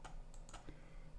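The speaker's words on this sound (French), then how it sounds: "Je fais supprimer de mon clavier." A computer keyboard key pressed while deleting a selection in GIMP image editing software: a few faint, quick clicks spread across the moment, close by and without talk.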